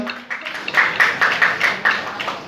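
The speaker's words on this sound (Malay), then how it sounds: "Tepukan gemuruh tuan-tuan dan puan-puan." Audience applause for a guest of honour at an iftar dinner for orphans in Putrajaya, a steady patter of many hands clapping at moderate volume for a couple of seconds.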